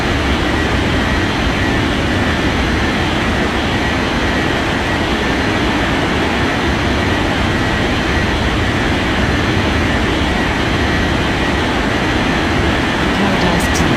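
Steady, loud broadband roar of an airliner's jet engines during a takeoff run in an air traffic control video game, continuous and unbroken throughout with no talk.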